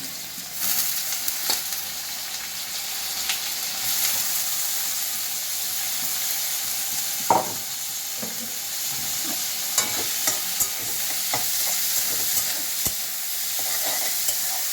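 Onions and garlic frying in a pan for a soybean chana dal, a steady close sizzle and hiss with occasional scraping stirs, carrying on without talk.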